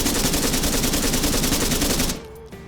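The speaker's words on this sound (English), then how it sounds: "Very, very quick 3-round bursts." Arma 3 gunfire in a video game, a long fast rattling string of rapid shots fired close and loud for about two seconds, then cutting off to a faint ringing tail.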